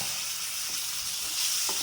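Ground coconut paste sautés in a pan of eggplant curry, giving a soft, steady sizzle with faint stirring scrapes, quiet and close with no talk.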